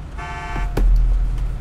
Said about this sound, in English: If you wanna honk again